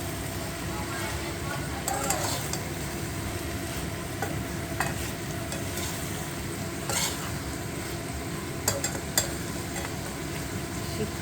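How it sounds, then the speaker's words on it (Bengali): Shrimp cooks in a pan with spring onion greens, green chilli and coriander leaves, giving a steady, dense sizzle throughout, broken by occasional scraping stirs and light clinks of the utensil. "মানে চিংড়ি মাছ রান্না হচ্ছে।"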